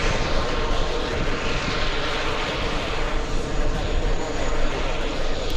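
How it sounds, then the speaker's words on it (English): A Norse airliner arriving from Gatwick touches down at the airport, heard as a loud, steady roar of jet engines that fills the whole stretch without letting up. "Norse flying in from Gatwick."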